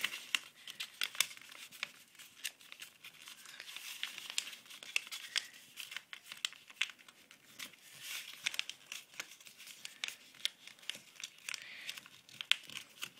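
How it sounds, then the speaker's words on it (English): Paper being turned over and folded for a beginner's origami flower, giving soft crinkles and sharp crisp crackles in irregular bursts, close and quiet, with no voices. "you're going to flip the paper over, then do the same thing just one last time."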